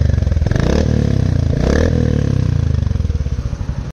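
A Royal Enfield Hunter 350 with a loud, modified bass exhaust idles and revs close by, its deep, throbbing pulses running steadily throughout with two brief swells of throttle.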